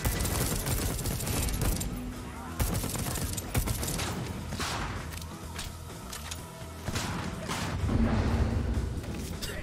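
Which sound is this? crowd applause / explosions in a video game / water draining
explosions in a video game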